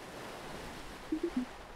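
Soft, steady washing of lake waves in a visual novel video game, a low, continuous surf-like hiss at modest volume, with a few brief low tones near the end.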